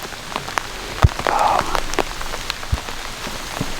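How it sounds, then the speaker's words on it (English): Rain falls steadily in the Alberta outdoors during a bear hunt, drops pattering and tapping on rain gear and nearby surfaces, with several sharper close drips standing out over the continuous hiss. "I'm sitting in the rain anyway"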